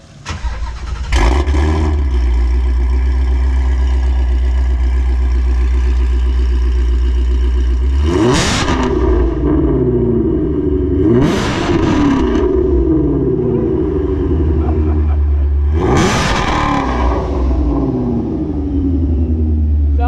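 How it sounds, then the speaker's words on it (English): A loud, deep exhaust on a supercharged (ProCharger) Ford Mustang GT350 idles with a heavy rumble, then three sharp revs climb and fall back at spaced intervals, close by and with no talking. "we're gonna give you some quick exhaust clips"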